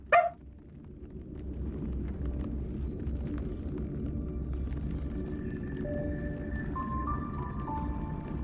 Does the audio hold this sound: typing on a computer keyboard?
no